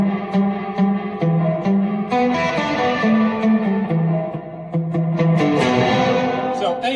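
A guitar run through a budget AFOT tuner pedal's built-in reverb with the settings cranked up, giving wild, washy shimmering tones as melodic notes ring out and smear into a dense, echoing tail throughout.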